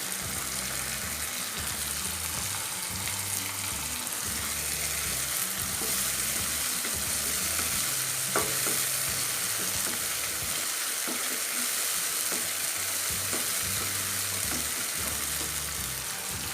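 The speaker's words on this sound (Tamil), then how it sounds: "தக்காளி பழம் நல்லா வதங்கட்டும்." Tomatoes sautéing with salt in a pan for drumstick masala curry, giving a steady, soft sizzle that runs unbroken and fairly even with no voices.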